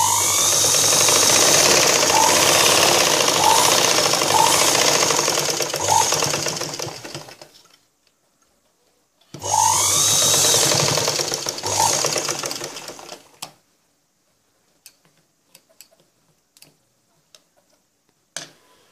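A sewing machine stitches a cross-cut blouse in two close, loud runs of rapid, even needle chatter, each several seconds long, separated by a pause and followed by scattered faint clicks.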